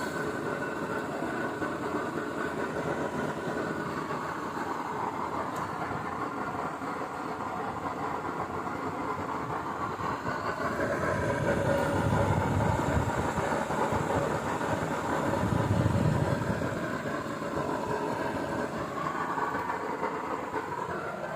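A Wais Kalan stove burner is turned up to full flame, giving a loud continuous roaring rush that swells stronger midway and then steadies.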